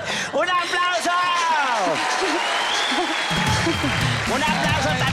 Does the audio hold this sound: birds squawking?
no